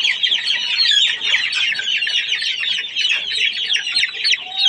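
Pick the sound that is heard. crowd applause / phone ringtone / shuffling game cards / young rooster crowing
young rooster crowing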